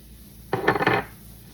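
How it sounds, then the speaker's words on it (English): Spices for enchilada sauce whisked together in a bowl, a brief half-second of quick metallic scraping and clinking strokes, close and alone against a quiet background. "And whisk together."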